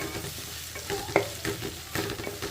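Green chillies and onions frying with brinjal in a pan for a brinjal tomato curry, a steady close sizzle with scattered stirring scrapes and clicks, no talking.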